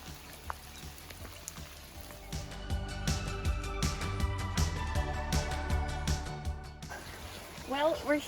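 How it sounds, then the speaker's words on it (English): Heavy rain pours at the Torrent River on the Abel Tasman Track, a dense patter of drops on surfaces and gear that builds midway, with people's voices and movement mixed in. "we're here at the Torrent River, and it is torrentially raining"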